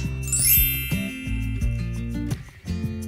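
Bright notification bell ding sound effect chiming briefly near the start, layered over steady background music with a sparkling high jingle that fades quickly.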